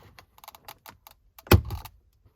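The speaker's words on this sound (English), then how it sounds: "We're going to start by gently pulling up the trim." Plastic dashboard trim on a Jeep Cherokee being pried up by hand, a run of small clicks and snaps followed by one louder crack, close and quiet with no talking.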